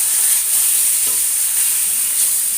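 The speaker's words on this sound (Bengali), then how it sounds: "মাছ ভাজার সময় খেয়াল রাখতে হবে যাতে তেল ছিটে না যায়" Fish frying in oil gives off a steady, bright sizzle that goes on without a break, close and fairly loud, with no talking over it.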